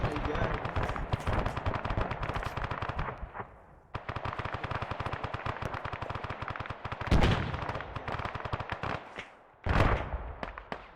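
Friendly fire in the Arma 3 military game: long bursts of rapid machine-gun fire rattle almost continuously, broken by a brief pause and two sharp, louder blasts near the end.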